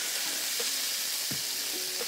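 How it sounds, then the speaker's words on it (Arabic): Meatballs for Dawood Basha kofta fry in a pan, giving a steady close sizzle with a few soft pops and a brief clatter as they are turned, with no one speaking. "بشوي كرات اللحم"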